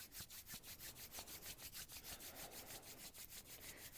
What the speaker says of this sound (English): Rub the hands together.